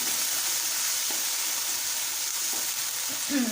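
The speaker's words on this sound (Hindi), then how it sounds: "2 से 3 मिनट हमने अच्छी तरह इनको भून लेना है" Chicken frying in a pan with garlic, ginger and green chili paste, a steady loud sizzle throughout with a few faint stirring scrapes and no talking.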